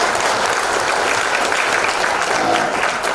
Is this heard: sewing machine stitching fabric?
no